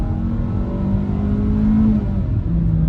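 A 2022 Kia Forte LXS sedan's engine revs up under hard acceleration, a steady low droning roar rising slightly in pitch before easing back.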